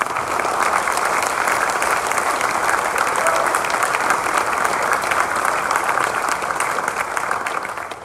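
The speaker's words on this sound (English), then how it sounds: "Would you all please give him a round of applause?" Sustained, loud applause from a gathered crowd at the official briefing for the Newport to Bermuda sailing race, dense and even throughout before easing slightly at the end.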